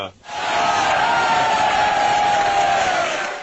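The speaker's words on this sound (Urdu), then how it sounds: "اس بزرگ رقاص کے فرمائشی رقص نے حاضرین کو تالیاں بجانے پر مجبور کر دیا" A crowd of supporters gathered for a dance performance roars and cheers loudly, a sustained mass of voices rising quickly after a brief quiet moment and holding strong throughout.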